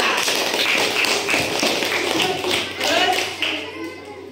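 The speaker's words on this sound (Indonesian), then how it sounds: "Tepuk tangan untuk Kalila" Schoolchildren in a fourth-grade classroom clap together for a classmate, a dense, steady patter of many hands that fills the room and tapers off near the end.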